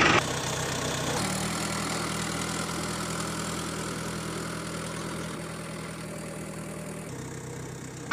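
A tractor pulling a tipper trailer runs with a steady, low diesel drone that stays even and close throughout, with no voices.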